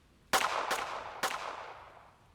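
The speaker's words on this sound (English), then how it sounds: "3 quick gunshots, one after another" Three quick gunshots from a dramatized shootout fire one after another within about a second, each a sharp loud crack trailing into a short reverberant decay, with no voices around them.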